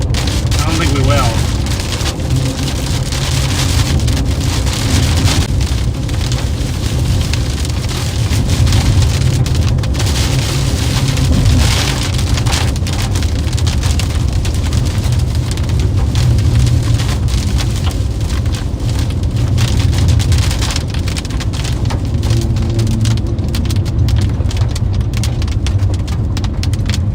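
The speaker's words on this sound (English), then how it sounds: "Ooh, the rain's a lot" Heavy rain pours steadily during a Nebraska supercell thunderstorm, a loud continuous roar drumming on a surface throughout, with a voice speaking over it.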